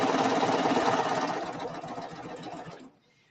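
A serger stitches a quilting seam through fabric, a loud, fast, even mechanical whir with a rapid stitching rhythm that runs near and steady, then slows and stops at the end.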